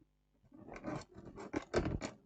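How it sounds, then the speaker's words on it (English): Cutters snip diodes off a switching power supply circuit board from a TV. Several crisp, close clicks and snaps come in an uneven series. "I'll just cut the diodes"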